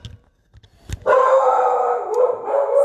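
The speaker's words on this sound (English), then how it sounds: "Sorry for my dog." A dog indoors lets out a sustained, loud, howling bark close by, starting after a few soft knocks and lasting a couple of seconds.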